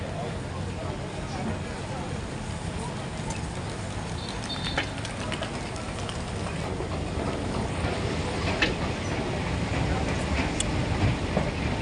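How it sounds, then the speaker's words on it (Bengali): Continuous rumble and rattle of an Istanbul metro train in motion at night, steady and close, with people talking faintly in the carriage throughout. "এটা হচ্ছে মেট্রো রেল আমরা মেট্রো রেলে যাইতেছি"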